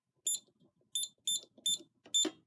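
A Scantronic SC 800 alarm panel sounding a zone alarm: five short, sharp electronic beeps spaced unevenly, heard close and alone in a quiet room.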